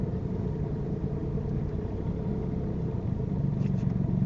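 A car in a driving lesson pulls away slowly with a low, steady engine rumble, quiet and continuous throughout, with no voices.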